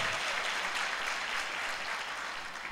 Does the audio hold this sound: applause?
yes